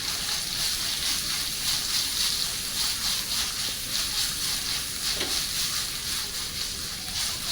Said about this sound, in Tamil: வறுக்கும்போது நம்ம வெஜிடபிள்ஸ் க்ரன்ச்சியாக இருக்குங்க